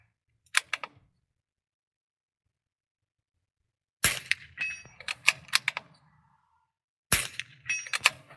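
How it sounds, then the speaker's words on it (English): Rifle shots at an outdoor shooting range, three separate sharp cracks spaced seconds apart, each followed by brief echoing rattles and small clatter, fairly close against silence. "May shoot another group up here just for fun."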